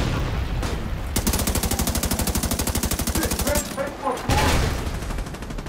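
Rapid automatic gunfire in The Division 2: a long, steady machine-gun burst of evenly spaced shots, then a brief pause and heavier firing, all loud and close.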